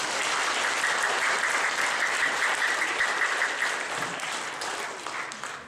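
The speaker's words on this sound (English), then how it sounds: "Please applause for Tanya." Audience applause fills a school assembly hall for a Future Leaders Exchange event, a steady, dense wash of many hands clapping that holds loud for several seconds before thinning slightly at the end, with no talk over it.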